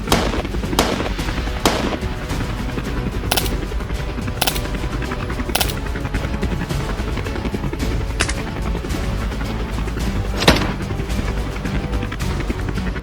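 Rapid gunfire in open landscape during wild boar culling, a steady dense barrage of loud shots with sharper isolated cracks standing out, continuous throughout with no talking.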